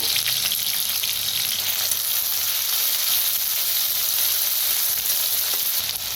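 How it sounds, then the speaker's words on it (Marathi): Crushed chili and garlic frying in well-heated oil in a hot kadhai, a loud continuous sizzle and crackle close up with light stirring, no voices. "तेल चांगलं गरम झालेलं आहे आपण मिरची कुटून घेतली होती मिरची लसूण भाजून घेऊया"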